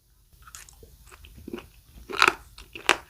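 Someone chews raw sea squirt (mideodeok) sashimi close to the mic. Soft wet chewing builds into a few loud, sharp crunches near the end, with no talking.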